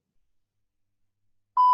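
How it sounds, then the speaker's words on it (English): Workout interval timer beep: a single clean electronic tone arrives right at the end after near silence, loud and steady. "So I will time us, setting up my timer."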